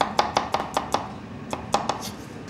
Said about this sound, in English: Take a couple of garlics, just slice quite coarsely.